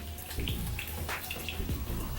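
Water splashes at a bathroom sink as a face is lightly rinsed, with close, irregular splashing and drips throughout and no talking.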